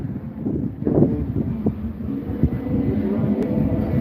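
Strong wind buffets the microphone in low, rumbling gusts that rise and fall, with no voices present.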